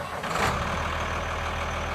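A 1994 Ford LT8000 truck fitted with a dump box and hoist fires up. A brief cranking burst catches and settles into a steady, rumbling diesel idle close to the microphone.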